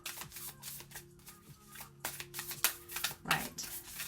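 Oracle cards are shuffled by hand in a quiet room, giving repeated soft riffling and flicking bursts, close and fairly faint, with a low steady hum underneath and no talking.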